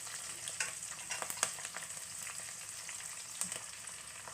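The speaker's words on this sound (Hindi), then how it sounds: "इनको 2-3 मिनट भूनेंगे हरी मिर्चों को।" Green chillies frying in a pan give a steady, close sizzle and crackle, with a few brief pops and stirring sounds, and no voices.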